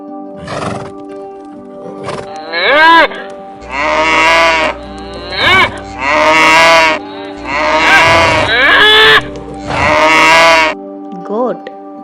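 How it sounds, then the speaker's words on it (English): Cow mooing in a run of repeated, drawn-out calls with short gaps between them. The calls are loud and close over a steady tonal background, and other livestock-like calls are mixed in. "cow,"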